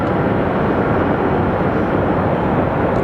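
An Embraer airliner comes in at Sky Harbor Airport, a loud, steady broadband jet roar with no clear change in pitch across the few seconds heard.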